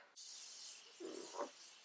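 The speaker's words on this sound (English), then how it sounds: "now I'll be spraying my face with the Morphe setting spray" Morphe setting spray mists onto a face in a soft, close, steady hiss lasting about a second and a half, with a faint puff near the end and no speech.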